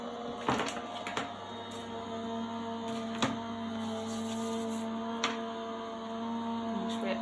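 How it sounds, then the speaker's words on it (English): A Gemini die-cutting machine runs card with clear plates through its rollers, giving a steady motor hum with a few faint clicks and knocks, heard alone without talk. "And I'm just going to run that through my Gemini machine."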